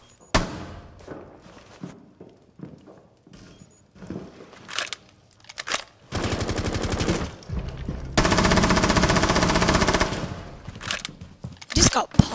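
Rapid automatic gunfire from an LMG and other weapons in a tactical video game shooter, heard as sharp single shots and then long loud sustained bursts, mixed with brief speech.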